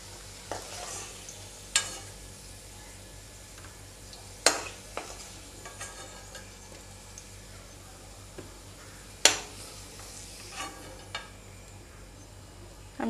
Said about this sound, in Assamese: আমি আলুটো ভাজি থৈ লৈছো